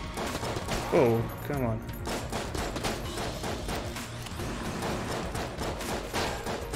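A boss in the Enter the Gungeon video game fires a dense stream of bullets, with quick gunfire bursts across the whole stretch and a short frustrated remark from a player early on.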